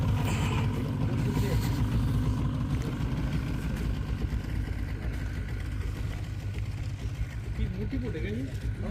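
Large boat engine on the Godavari river near Nanded, a steady low rumbling drone running continuously throughout, with a voice speaking over it.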